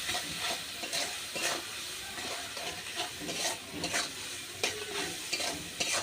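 Potatoes stir-frying in hot oil with chilli and turmeric powder for a koi fish curry, a steady close sizzle broken by repeated scraping stirs of a spoon in the pan, with no talk.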